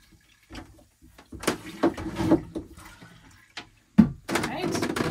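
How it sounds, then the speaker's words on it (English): A manual marine toilet aboard a Beagle Spirit boat is flushed by pumping a small valve, giving repeated close sloshing and gurgling water strokes in uneven bursts, the last one longer and louder. "we just pump this little valve, and that flushes the toilet."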